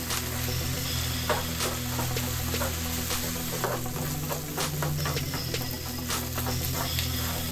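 Rice frying in a pan for kimchi fried rice, sizzling steadily up close with scattered scraping and stirring clicks from a utensil.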